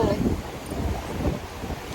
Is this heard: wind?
yes